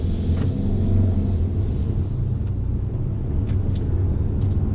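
A 2019 Subaru Ascent SUV engine drones in a low, steady rumble close by as it accelerates, with road noise under it, no voices.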